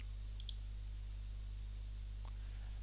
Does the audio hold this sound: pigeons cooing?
no